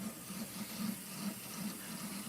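An LG ThinQ MEGA Ultimate washer filling with water for its rinse, a faint steady rush of inflowing water with a low hum underneath, and no voices.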